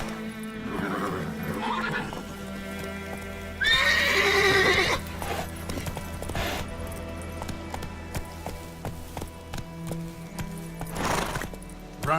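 Roach the horse from The Witcher 3 gallops with rapid hoofbeats, then gives one loud, close neigh midway, with a second brief whinny later over a continuous game soundtrack.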